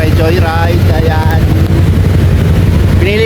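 Motorcycle engine running steadily while riding at night on the road toward Davao, a constant low rumble with wind noise throughout, and a voice talking over it.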